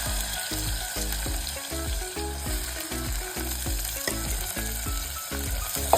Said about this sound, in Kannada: ಈರುಳ್ಳಿ ಸ್ವಲ್ಪ ಫ್ರೈ ಆಗ್ತದೆ.